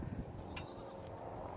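Goats bleat a few times close by on a farm beside a pen, short wavering cries over a steady background rumble.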